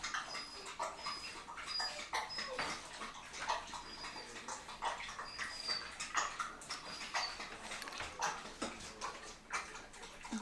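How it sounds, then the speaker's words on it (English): A dog takes a long drink of water, wet lapping repeating steadily near and fairly loud for the whole stretch, with no voices over it. "taking a big long drink of water"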